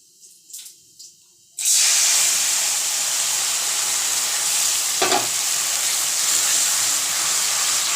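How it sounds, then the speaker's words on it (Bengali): Ground spice paste drops into hot oil with black cumin for a pomfret curry, bursting into a loud, steady sizzle after a quiet start with faint clinks, then a brief stir scrape midway. "ভাজা হয়ে গেলেই এই কালো জিরাগুলো তেলের মধ্যে ভেসে ওঠে ঠিক ভেসে ওঠার পরেই আমি আমার বেটে রাখা মশলাটাকেও"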